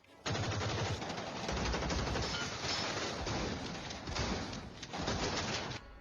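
Sustained bursts of rapid automatic gunfire in a film shootout, loud and dense, with a brief pause before another volley.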